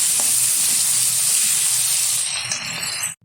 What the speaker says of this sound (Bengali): চিংড়ি মাছটা হালকাভাবে ভেজে তুলে নেবো একটা পাত্রে